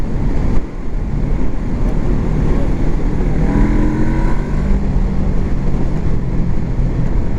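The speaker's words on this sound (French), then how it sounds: "bah le pétarade toujours déjà" A derestricted motorcycle engine runs loudly and steadily with broadband exhaust roar and rumble, passing wind noise and faint crackling pops mixed in, heard from close by on the move.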